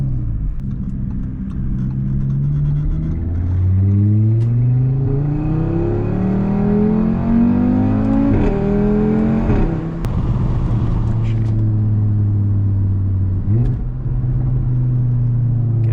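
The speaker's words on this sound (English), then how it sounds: "Downshift and off the brake. And a little bit of sputters." An Audi R8 supercar engine revs up through rising sweeps, then downshifts with falling pitch and a few sputters off the brake, loud and close from inside the car, with no talk.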